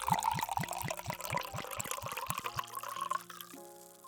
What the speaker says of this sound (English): Pour some for me, please.